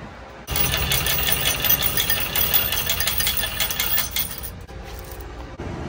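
Coin-operated car wash machine running after coins go in, a steady rattling mechanical whir with spray hiss that starts abruptly and carries on, then briefly dips near the end.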